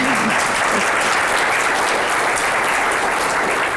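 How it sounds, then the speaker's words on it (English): Sustained, loud audience applause at the end of an annual agricultural economics lecture, a dense even wash of many hands clapping close by with no pause throughout. "one more clap, sure."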